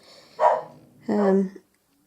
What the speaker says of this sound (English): Just ignore the dog barking,